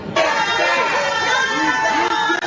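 A crowd outside a courthouse after the Sean Combs verdict, with loud cheering and voices mixed with honking car horns, close and busy throughout.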